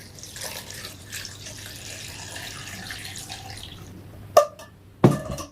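Water runs steadily from a tap into a cooking pot for several seconds, a soft continuous splashing, followed by two short louder clunks of the pot.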